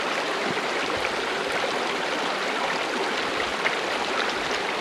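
A flowing mountain stream in the Benguet–Ifugao highlands rushes steadily, a close, continuous broadband hiss of moving water with no pauses and no voices.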